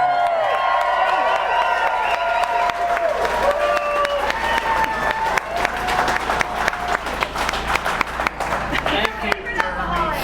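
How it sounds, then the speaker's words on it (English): Applause with a few cheers from a crowd at a brewing company's 15th anniversary celebration, steady dense clapping lasting the full stretch, with voices and tonal sounds mixed in. "let's have a round of applause and a big cheers"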